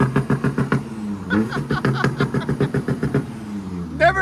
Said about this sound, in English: Never expected an Audi to sound like that.